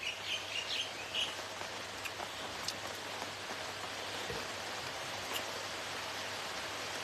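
Steady rain falls in a dense, even patter with no talking, while faint bird chirps come through now and then.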